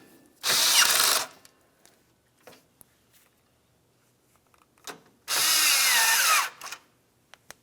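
A power tool tightens bolts on the AC condenser of a 2000-2006 Chevrolet Tahoe, sounding in two loud bursts of about a second each, separated by quiet pauses with faint clicks and handling noises.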